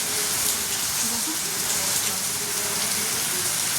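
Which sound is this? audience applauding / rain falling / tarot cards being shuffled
rain falling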